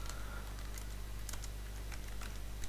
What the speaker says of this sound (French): vous appuyez sur la touche insert du clavier